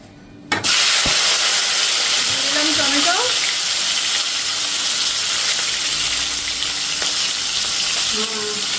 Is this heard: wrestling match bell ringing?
no